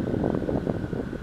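Strong wind buffeting a microphone on a mountain trail ride, a dense continuous rumbling roar with no pauses.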